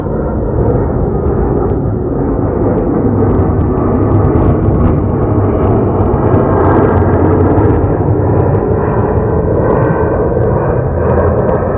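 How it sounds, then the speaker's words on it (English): A loud, steady engine roar fills the whole stretch, like an airplane passing low overhead, with no talk audible. "Can we stop for the airplane?"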